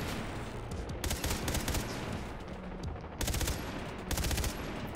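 Rapid gunfire in the shooter game Blood Dragon, aimed at grenades, rattles in dense automatic bursts over a constant loud background of game noise.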